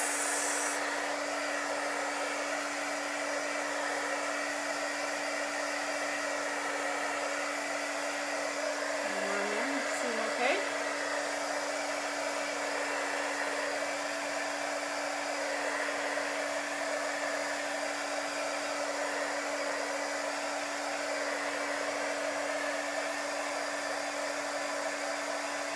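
A hair dryer blows steadily and continuously on chalk paste hearts, a constant whooshing hum with a slight rattle near the middle, no voices.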